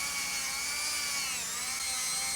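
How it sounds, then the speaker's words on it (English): A rotary tool polishes the frets of a custom Telecaster guitar build, giving a loud, steady high-pitched whine that dips slightly in pitch midway, close up and alone. "just keep going down through here and polishing each individual one"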